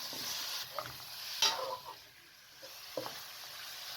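Quiet sizzling of mutton frying in a karahi, with occasional stirring clinks and scrapes; no voices.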